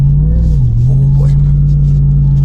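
A RAM TRX truck engine drones loudly from inside the cab while driving through sand dunes, its low pitch dipping and then rising again as the throttle changes, with faint voices underneath.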